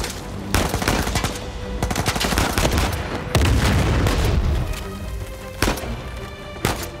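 Sniper and RPG gunfire in the Uncharted 4 video game, loud overlapping shots and booming blasts in dense bursts, with a heavy explosion midway and sharp single cracks near the end.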